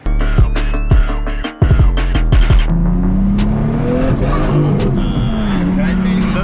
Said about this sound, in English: Is that a boost cut? Yeah, Damn. that's a cut.